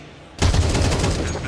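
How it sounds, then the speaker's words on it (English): Loud gunfire erupts in a professional Counter-Strike match, a sudden dense burst of wallbang headshots that starts sharply and rattles on through the rest of the moment. "That was wallbang headshots."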